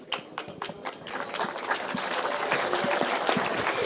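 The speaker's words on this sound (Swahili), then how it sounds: "Makofi jamani." A crowd at a pastor's church gathering breaks into applause, starting with scattered claps and swelling into steady, dense clapping that continues to the end.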